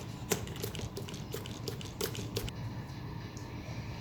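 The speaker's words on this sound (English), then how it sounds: "Now we are going to be spraying the water in there." Water sprayed in a series of short, faint bursts onto potting soil in a plant pot while broccoli is being planted at home, with no talking.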